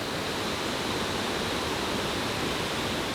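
A big waterfall in Northern Thailand roaring with a dense, steady wash of falling water, loud and continuous with no voices.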